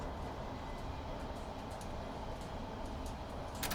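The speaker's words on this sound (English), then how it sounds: "You hear the motor noise." Steady low rumble of a train's traction motors inside the cab in Train Sim Classic, a continuous even drone with light creaks and rattles on top, no talking.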